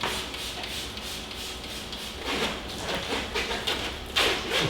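Wash spray patters and hisses against the emblems of a 2017 Mercedes GLE 63S in a garage, a steady close rush with rougher rattling bursts where the jet strikes the badges.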